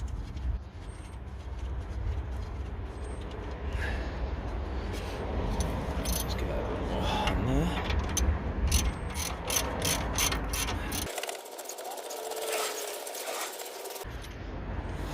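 The track rod end nut comes off a BMW 5 Series E60 with a close, continuous run of ratchet clicking over a mechanical rumble. Faster rapid clicks follow, then a brief quieter stretch before the noise resumes.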